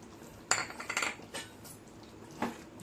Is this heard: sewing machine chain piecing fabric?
no